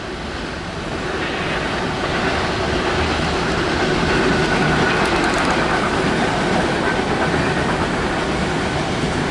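A northbound Norfolk Southern freight train passes close by, a loud steady rolling rumble with wheel clatter that builds and holds throughout.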